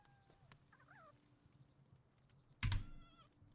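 A cat creature in the Palworld video game gives a short, faint meow over a steady game background hum, followed later by a louder brief burst of sound.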